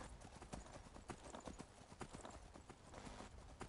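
Rhythmic hoofbeats of a horse in the video game Skyrim clip-clop quickly and evenly at a gallop, fairly faint under a soft background wash.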